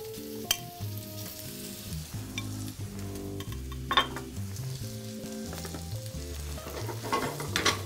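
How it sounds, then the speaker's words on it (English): Mushrooms sauteing in a little olive oil in a hot pan, a steady close sizzle with occasional stirring scrapes, heard alone with a soft musical background. "The mushrooms are just going to be sauteed again with a little bit of olive oil."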